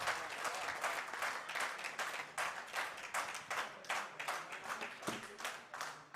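Audience at a Hindi poetry gathering (kavi sammelan) applauding steadily, dense clapping with a rhythmic pulse running for several seconds.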